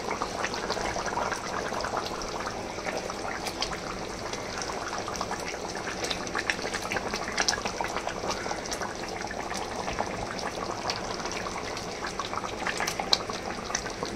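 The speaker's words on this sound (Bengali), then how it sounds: "ঝোলটা পুরো টকবক করে ফুটছে" Fish curry gravy for a brinjal and potato curry bubbles vigorously in a pot, a steady close rolling boil with dense liquid burbling and popping throughout.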